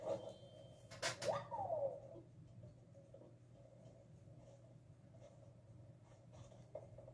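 Crafting a wobbling zipper toy in the Animal Crossing New Horizons video game gives a short burst of scratchy, pencil-like crafting scribbles and a bright chime near the start, then a faint, steady game background with a few soft clicks.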